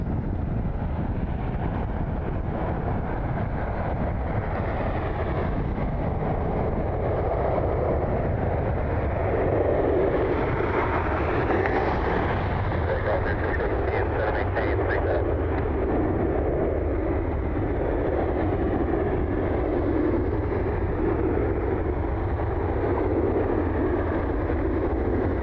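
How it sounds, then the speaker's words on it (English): A Hawker business jet taxis out at Cleveland Hopkins airport, a steady broad rumble and whine held at a distance under heavy wind buffeting on the microphone, with no voices. "Hawker there in the background taxiing out."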